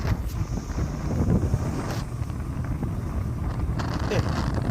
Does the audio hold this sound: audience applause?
no